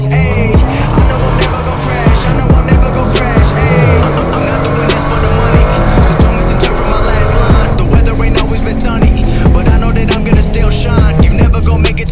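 A Dodge Demon and a Shelby Super Snake race, engines roaring loud and close as tires squeal and skid repeatedly, with music and some talk underneath.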